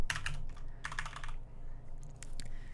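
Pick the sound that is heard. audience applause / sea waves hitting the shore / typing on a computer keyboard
typing on a computer keyboard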